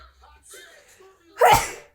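A single sharp sneeze bursts out loudly after a moment of quiet murmuring, close and abrupt, then trails off quickly.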